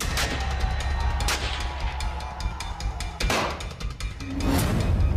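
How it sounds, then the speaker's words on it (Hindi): Gunfire in street fighting in Karachi, Pakistan, with sharp cracks and bangs scattered across a dense, noisy background, including a couple of louder bursts, heard from mid-distance without speech. "कहीं गोलियों की गूंज,"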